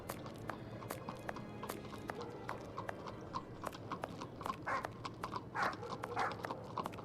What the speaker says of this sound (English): I can hear that horse and cart coming closer.